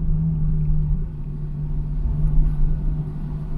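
A car rolls slowly along a narrow road, its engine holding a steady, close low rumble with a constant drone throughout and no sharp revving.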